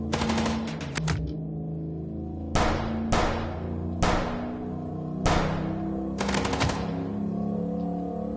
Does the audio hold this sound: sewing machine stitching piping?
no